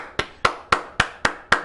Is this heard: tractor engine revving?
no